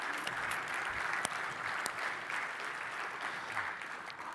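Steady audience applause at a tech conference in honour of a support team, a dense, even patter of many hands clapping at moderate distance with a few sharper claps standing out.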